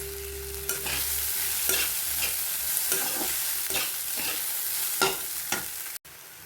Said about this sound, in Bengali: ওই চিনি মাখানো চিড়াটাকে দিয়ে দেবো, একটু একটু করে দিই আর নাড়াই